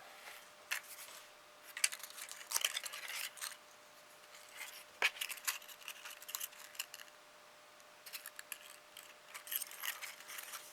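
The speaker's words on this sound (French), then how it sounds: "Il faut que je coupe le petit bout là en plus." Scissors snipping a small piece of paper while making a mini paper rosette craft, giving a few light, sharp clicks and short cuts scattered across a quiet background, close and fairly soft.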